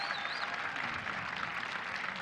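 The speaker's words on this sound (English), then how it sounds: "please, round of applause for your champions, EnVyUs" Sustained applause from an esports audience cheering the champions EnVyUs after a Counter-Strike final on Cache at Gfinity 2015, steady clapping with a faint whistle near the start.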